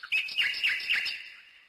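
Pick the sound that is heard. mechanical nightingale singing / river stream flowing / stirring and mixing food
mechanical nightingale singing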